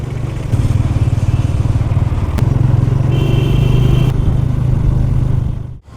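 A motorcycle taxi ride, with a loud, steady engine drone and rhythmic putter heard up close from the seat, wind rumble throughout, before it cuts off abruptly at the end.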